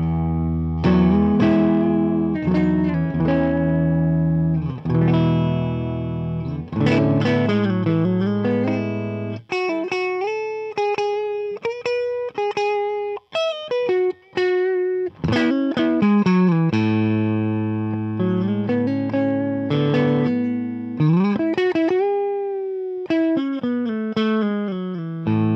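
A distorted 1966 Telecaster electric guitar plays a lead line through an old Marshall amp, with sustained bends, quick runs and chordal stabs, loud and continuous.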